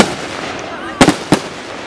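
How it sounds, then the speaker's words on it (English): Roman candle fireworks at an outdoor display, firing two quick sharp pops and then a third shortly after over a hissing background, loud and fairly close. "Those are the Roman candles."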